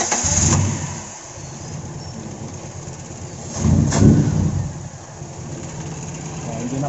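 A carbureted Toyota AE92 with a 4A-FE engine, which has trouble starting, cranks and catches with two louder bursts, then settles into a steady, rough idle close by, with voices in the background.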